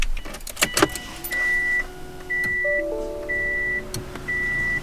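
A Subaru's ignition key turns on ahead of an ECU write during a fuel injector upgrade, setting off a rattle of keys, then a repeating series of electronic chimes that beep at a steady pace inside the car, alone and clear.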